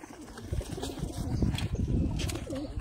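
Ababeel pigeons kept by hobby fanciers in Sialkot, close by, cooing softly with bursts of wing flapping and rustling, fairly loud and busy throughout.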